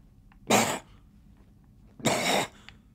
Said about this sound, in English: Remember how whenever I say that, it just seems like I start coughing up blood.